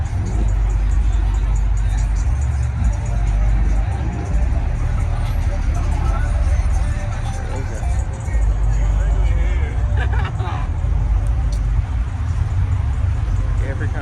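Cars and a crowd at a Brandsmart car meet, with steady low engine rumble and idling vehicles under continuous crowd babble and nearby talking, loud and constant throughout.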